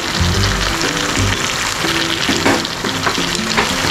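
Chili, coriander and cumin powder dropped into a hot pan of oil while cooking a birthday meal, giving a steady, close, loud sizzle with stirring scrapes throughout, over soft background music.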